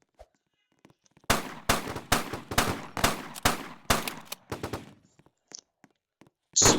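AK-47 rifle fire in a video game: a close, loud burst of about eight rapid shots in steady rhythm, followed by a few scattered quieter shots, with a sharp noise at the very end.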